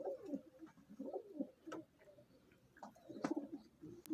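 Golden red-eyed pigeons kept for sale coo in a series of soft, low, throaty calls at close range, with irregular pauses and no talk.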